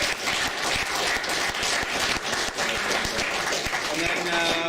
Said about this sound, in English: a round of applause, I think, for Graham Bridges